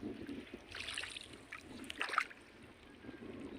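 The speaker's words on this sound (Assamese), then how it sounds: "আমি এতিয়া বৰ্তমান পানীৰ মাজত নাও লৈ আহিছোঁ।" A small boat moves across a wetland lake, with faint, soft splashes and water swishes that come and go against a quiet, breezy background.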